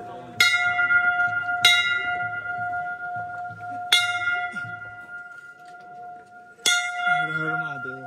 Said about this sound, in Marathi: चलो बजाव घंटा.